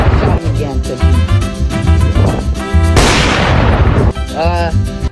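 Loud, close gunshots and booming blasts in a video game, several heavy reports in quick succession with a ringing crash midway, over a busy game soundtrack.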